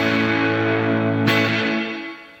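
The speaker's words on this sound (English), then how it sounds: "it's a reverb with distortion on the trails." A sustained, heavily distorted guitar tone through a reverb pedal with distortion on the trails washes out in a long reverb tail that fades away near the end.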